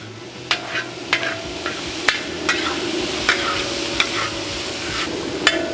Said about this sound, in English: now we're gonna go ahead and get this all combined